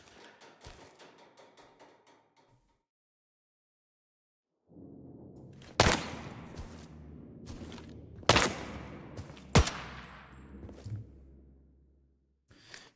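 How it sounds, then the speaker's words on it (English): In a hardcore extreme AI video game, sniper rifles fire from two separate watchtowers, giving three sharp, loud shots a few seconds apart with echoing tails after a stretch of near silence. "So there's two snipers that actually shot at us"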